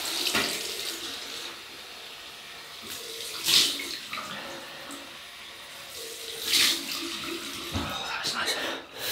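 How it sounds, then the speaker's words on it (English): Cold water runs from a tap for a rinse after a shave, a continuous splashing flow with two brief louder bursts as hands or a face meet the stream, heard close up. "Right, cold water rinse."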